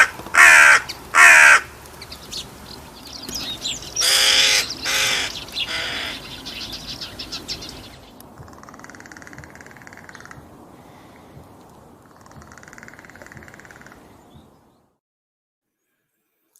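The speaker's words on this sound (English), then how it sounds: "I've got a nice video of Hooded Crows." Hooded crows caw outdoors, loud harsh calls in a few bursts at first, then fainter, more distant caws repeating over steady ambient noise before fading to silence.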